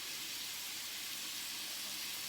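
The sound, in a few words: meatballs sizzling in a frying pan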